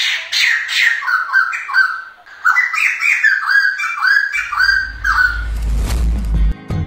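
A series of loud, squawky crested laughingthrush calls in rapid bursts, followed by a rumbling noise near the end; no speech.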